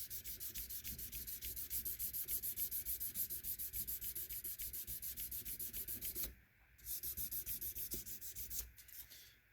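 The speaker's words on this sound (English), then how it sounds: "Now sometimes I'll use the fret erasers" Fret erasers rub back and forth across the jumbo frets of a Jackson compound-radius guitar neck in fast, even scrubbing strokes, close and continuous, with a brief pause near the end.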